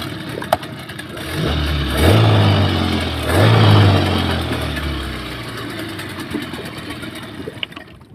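A boat engine runs through a test run, a steady mid-pitched drone that swells twice in quick revs before settling back toward idle, loud and close with no talk.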